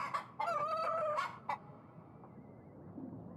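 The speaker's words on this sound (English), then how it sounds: "Now the chicken has opinions." A chicken in the medieval kingdom-management video game Yes, Your Grace gives a loud, close crowing cluck, then a short squawk, before quieter background ambience with no speech.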